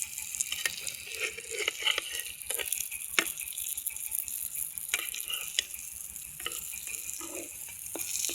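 Brinjal slices fry in a pan with a close, steady crackling sizzle over a low hum, punctuated by occasional clicks of a utensil and no talking.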